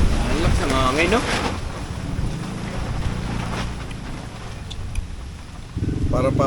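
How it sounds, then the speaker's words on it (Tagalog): Strong wind blowing outdoors near water, a steady rushing roar buffeting the microphone, with people talking over it at the start and end. "Ang lakas ng hangin, no?"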